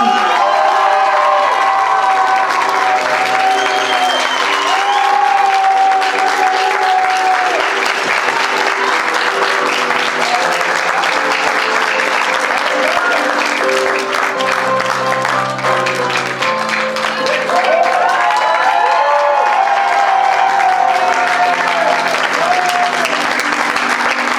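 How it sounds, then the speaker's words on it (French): A graduation gown and yearbook ceremony audience gives a graduate a long, steady round of applause, with scattered cheers and music playing underneath throughout. "je veux une grosse main d'applaudissement pour celui-là, Charles-Étienne Soucy"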